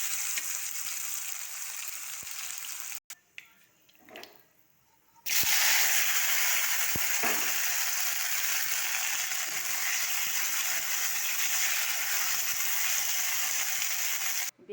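Okra frying in a kadai, a steady loud hiss of sizzling oil that drops away briefly partway through, then returns strongly and continues to the end.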